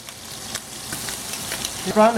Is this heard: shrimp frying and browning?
yes